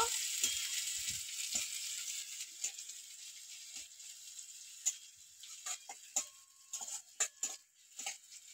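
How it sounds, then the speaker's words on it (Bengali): Chopped onion and garlic frying in a kadai for a korai shaak dish, a steady soft sizzle with scattered pops and crackles and occasional light ticks from stirring, close and moderately quiet with no talking. "পেঁয়াজটা একটু হালকা করে ভেজে নেব।"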